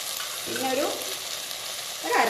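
Chicken perattu sizzles in a pan after a handful of curry leaves goes in. The frying hiss is close and continuous, with a couple of short stirring swishes.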